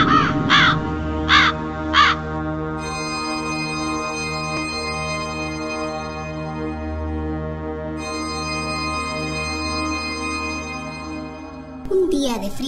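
A crow gives three harsh, evenly spaced caws at the start, then a sustained droning tone takes over and holds steady until a brief burst near the end.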